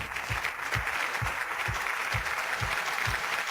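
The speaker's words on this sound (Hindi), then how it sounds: "चलिए तालियों के साथ स्वागत करते हैं मिस" An audience claps in welcome for someone coming on stage, a steady wash of applause with a regular low thumping beat pulsing underneath.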